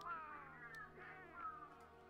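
Cat meows from the Palico companion in the video game Monster Hunter World, several drawn-out, wavering meows in a row, fairly faint and heard alone without talk.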